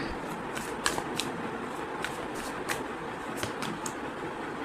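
Tarot cards being gathered up and shuffled, a soft continuous riffling with light flicking snaps, close over a steady background hiss and no talk.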